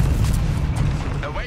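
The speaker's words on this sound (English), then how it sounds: "Ooh, we gotta get rid of this damn mortar" Low, rumbling booms of mortar fire in a Company of Heroes 3 4v4 battle, continuous and heavy through the clip, with a faint whistling shell sweep near the end.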